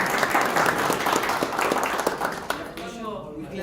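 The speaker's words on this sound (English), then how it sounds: "We clap." Audience applause at a tech talk, a dense run of clapping that fades out after a few seconds as a speaker's voice comes in.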